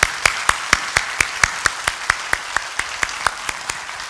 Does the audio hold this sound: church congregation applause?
yes